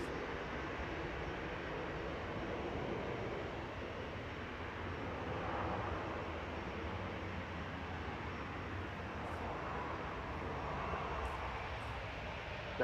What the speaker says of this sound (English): NetJet CSCHD coming in from Oslo next. Bombardier Challenger 350 about to touch down.